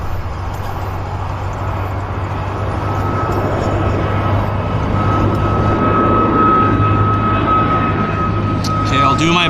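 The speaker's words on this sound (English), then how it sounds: "Dash 8 Q400 taxiing into position behind it." A Dash 8 Q400 turboprop airplane taxis at Vancouver YVR airport, giving a steady, loud engine drone with a sustained propeller hum, and faint voices come through beneath it.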